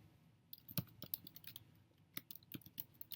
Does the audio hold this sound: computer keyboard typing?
yes